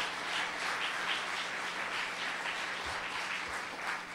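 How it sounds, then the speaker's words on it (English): Steady applause from a concert audience welcoming a fiddle player, a broad, even patter of clapping holding throughout with a faint low hum beneath. "Just give them a warm welcome, a round of applause"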